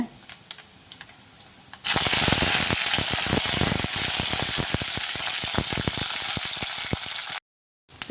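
Quiet at first, then a loud burst of crackling sizzle as tempering with greens hits hot oil for a tomato and potato curry, spattering and popping steadily for several seconds before abruptly cutting off.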